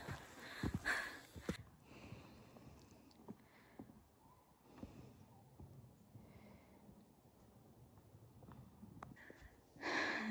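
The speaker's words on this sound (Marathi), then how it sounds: "हळूहळू माझी श्वास ऐकून तुम्हाला कळत असेल की किती जास्त मेहनत लागते" Close, heavy breathing while hiking in Quebec, with snorting and sniffing exhalations, irregular and effortful, with louder gusts at the start and end.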